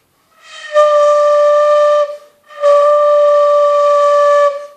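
Two long, steady whistling tones are blown one after the other with a short pause between, clear and sustained like a pipe being sounded.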